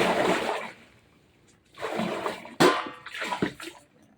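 Water from a hose gushes in bursts into a bucket, pausing between pours, with splashing and rushing sounds close by.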